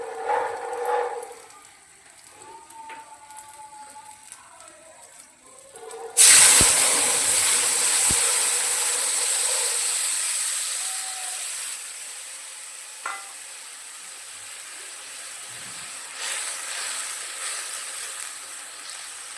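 Poppy seed paste goes into hot oil with green chilli and black cumin for a Bengali katla fish posto dish, setting off a sudden loud sizzle with a few sharp clatters, then a steady hiss that slowly eases.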